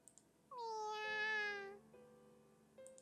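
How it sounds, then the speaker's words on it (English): A kitten in a visual novel video game gives one drawn-out, clear, rising-and-falling meow, followed by a short, fainter mew near the end, close and alone against a quiet background. "It is still a kitten after all."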